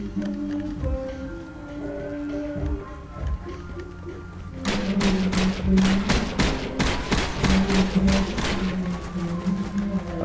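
M1 carbine gunfire in the zombie shooter Zombie Stories: a quiet stretch gives way to a rapid, sustained run of loud, closely spaced shots that continues to the end.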